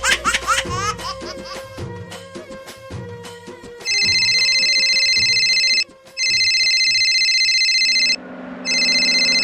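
A telephone rings with a loud, steady electronic ringtone in repeated bursts separated by short gaps, following a busy musical passage, in a Sambalpuri comedy sketch.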